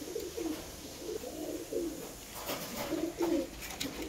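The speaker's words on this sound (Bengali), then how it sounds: "আমার পায়রাগুলো কী করছে চলো তোমাদেরকে একটু দেখিয়ে দিই" Pet pigeons coo softly in a series of repeated low, rounded calls, fairly faint over a quiet background hiss.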